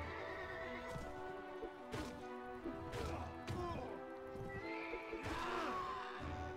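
Horses in the video game Mount & Blade: Warband whinny loudly several times over a steady bed of game ambience, with clip-clopping hooves and occasional knocks mixed in.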